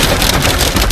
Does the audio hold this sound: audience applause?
no